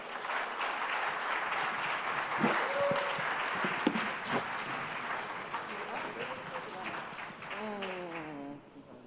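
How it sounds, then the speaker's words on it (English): Sustained applause from an audience at a Black Lives Matter Day morning session, dense clapping filling the room for most of the stretch with some voices mixed in, fading out near the end as a voice begins. "If we could give them a round of applause"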